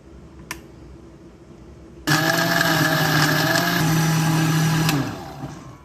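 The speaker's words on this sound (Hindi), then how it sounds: "अब इन सब सारी चीज़ों को हम ग्राइंडर में डालेंगे और ग्राइंड करेंगे।" An electric kitchen grinder whirs loudly and steadily for about three seconds as it blends almonds, spices and water into a paste for Mughalai egg curry, starting abruptly and then winding down, with a faint click before it starts.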